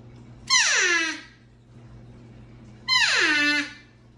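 Two nasal, descending squealing bugles from an elk call reed blown by mouth, each about half a second to a second long and separated by a pause, loud and close against a quiet background.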